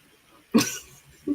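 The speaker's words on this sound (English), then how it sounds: "I'm about to cough" A single sharp cough close to the mic, followed a moment later by a softer, shorter throat sound.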